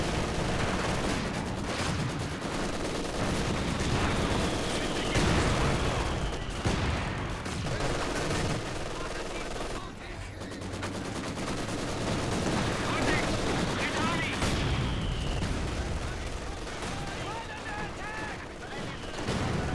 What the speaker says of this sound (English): Oh man, mortar's trading blows here. That Ostmortar is much stronger though, especially in auto fire.